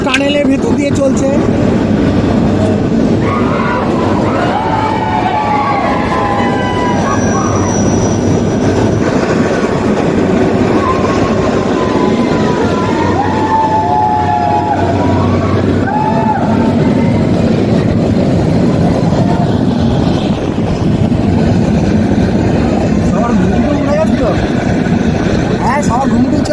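Shimla toy train rumbling steadily through a tunnel, a constant loud low roar with faint wheel squeals and clatter throughout, voices talking over it.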